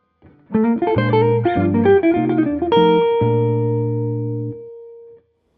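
A slow, clean guitar phrase: a handful of distinct notes and chord tones played unhurriedly, ending on a sustained chord that rings out and fades.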